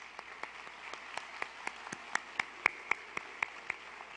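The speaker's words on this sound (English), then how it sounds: "Please give them a round of applause." Sparse, quiet clapping from a graduation audience at a high school ceremony, a few distinct claps spaced roughly in a steady rhythm rather than a full ovation, heard at a distance.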